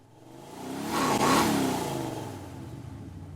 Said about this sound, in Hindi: तो ये गाड़ी बेसिकली लेफ़्ट टू राइट भागती है